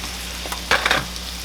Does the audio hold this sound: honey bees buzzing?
no